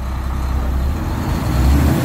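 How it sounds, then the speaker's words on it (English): A Volvo truck engine rumbling loud and close as it creeps around a yard under a 5 mph derate, a steady low drone that swells slightly near the end. "I'm gonna drive it in the yard and see if he's gonna leave the 5 miles per hour D-rate."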